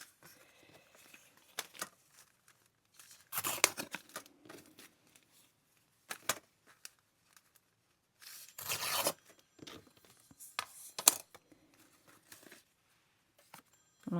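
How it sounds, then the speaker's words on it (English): Close scissor snips and crisp paper rustling as small paper scraps are cut for a journal page, in short bursts of cutting and crinkling separated by quiet gaps, with no talking. "So I found some little scraps, so I'm going to cut this up"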